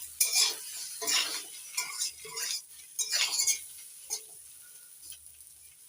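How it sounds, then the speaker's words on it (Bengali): Spiny gourd fries in a pan as a utensil stirs it, giving repeated scraping and clinking strokes over a steady sizzle, close and moderately loud. "নাড়াচাড়া করে দিচ্ছি।"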